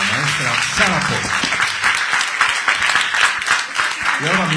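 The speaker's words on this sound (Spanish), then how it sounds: "Fuerte el aplauso para la maestra Sara Pott." Applause from a seated audience at a Spanish-language book presentation honoring poet Sara Poot Herrera, dense steady clapping throughout with a presenter's voice speaking over the start and end.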